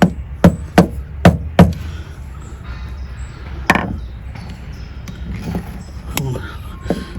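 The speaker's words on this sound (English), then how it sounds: "I'm just going to give this a little tap home." Several sharp taps on a part being seated home, four quick knocks close together, then single knocks spaced apart over a low background.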